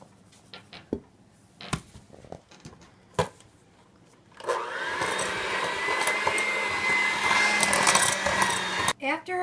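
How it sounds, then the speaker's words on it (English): Light knocks and clatter in a kitchen give way to an electric mixer with dough hooks working gingerbread dough, a loud, steady motor whir that runs continuously through the second half. "I added an additional cup of flour and mixed it with my dough hooks"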